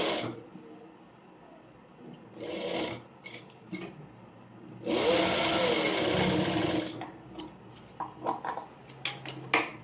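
A sewing machine stitches a layered frill frock in a tailoring lesson, running in short separate bursts with one longer steady run in the middle and faint handling noises between them.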